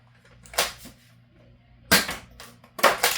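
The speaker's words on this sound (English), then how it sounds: "Again, firing, but this time with 6 of the green waffle head darts." A foam blaster fires green waffle-head darts in three sharp, snappy pops spaced over about three seconds, each crisp and close with a short rattling tail and quiet gaps between.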